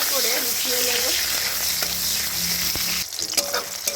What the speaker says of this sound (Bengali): টমেটোটাকে ভালো করে নাড়াচাড়া করে একটু নরম করে নিলাম